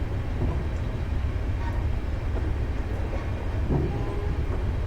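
A Class 380 train in a train simulator video game rumbles steadily throughout with low continuous rolling noise and faint clattering, fairly loud and close, no voices.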